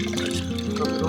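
Strained water from boiled crabs poured into a cooking pot, a steady close pouring and filling sound that lasts about a second with a low hum underneath.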